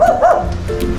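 A large dog gives a couple of close, loud barks and yips over a noisy outdoor background, with voices murmuring nearby.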